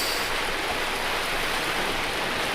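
A waterfall in the Dark Souls game world, heard as a steady, dense rushing hiss of falling water, constant and unbroken throughout.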